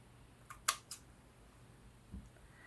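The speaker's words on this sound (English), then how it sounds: "Oh my god, scissors, come on." Scissors cutting lace from a neck curtain, a few quick crisp snips close up in a quiet room, followed by a soft thud.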